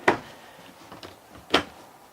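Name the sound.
motorhome kitchen cabinet doors and drawers opening and closing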